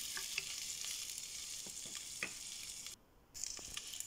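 Sliced golden-brown pork belly sizzling in a pan while it is stirred for a green bean and carrot dish; a steady hiss with occasional scraping clicks, briefly cutting out near the end before resuming.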